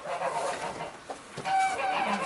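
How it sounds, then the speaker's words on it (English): Chickens clucking at close range during a daily farm feeding routine, a steady stream of short, overlapping clucks and calls that rises in the second half. "Chickens!"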